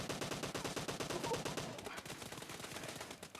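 Rapid bursts of automatic gunfire in the PUBG video game, a dense rattling stream of shots firing fast and loud throughout, easing slightly toward the end, with no talk over it.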